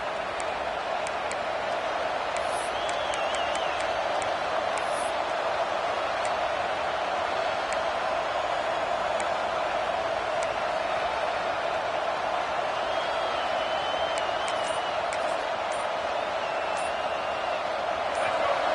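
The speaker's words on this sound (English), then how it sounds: "Listen to this crowd just shaking the girders of this place, trying to help their defense." A dense, steady roar of a large football stadium crowd fills the space without a break, broad and constant, with faint distant whistles and shouts poking through.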